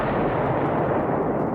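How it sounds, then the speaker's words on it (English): Massive blast at a chemical plant in the Nevada desert, caught from a distant mountain: a loud, sustained broadband rumble and roar that fills the whole span with no break and no talk. "massive explosions 4 minutes apart destroy a chemical plant and rock the Nevada"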